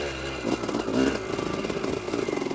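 A dirt bike's engine revs near at hand with a throbbing, uneven buzz that swells and then settles into a rapid idle pulse.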